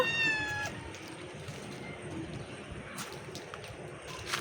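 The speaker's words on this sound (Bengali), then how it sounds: "বুতু বিড়ালি তুমি নামবা কিভাবে দেখি নামো তো নামো" A cat gives a short meow at the start, then the clip continues with faint outdoor rustling and a few soft knocks.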